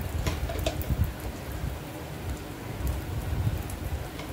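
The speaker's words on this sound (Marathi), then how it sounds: "आता वरून मी थोडं थोडं तूप टाकते." Cow's ghee dropped a little at a time onto maize appe cooking in an appe pan makes a soft, scattered crackling sizzle, faint and continuous with small irregular pops.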